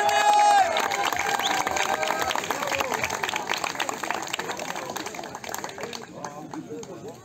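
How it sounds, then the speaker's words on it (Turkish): At a campsite activity in Manavgat, Antalya, a small group claps and cheers for the third-place girls, with excited voices and chatter mixed through the uneven, close clapping that thins out toward the end. "Çılgın kızlar için bir alkış alabilir miyim?"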